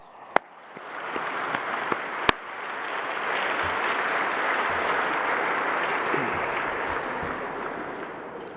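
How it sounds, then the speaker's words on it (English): Audience applause at an autonomous vehicle competition award ceremony, a steady broad wash of clapping that swells after a few sharp claps and holds loud and even throughout. "you ought to give yourself a round of applause."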